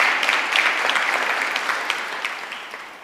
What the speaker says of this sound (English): Can we once again give a round of applause for Deputy Minister?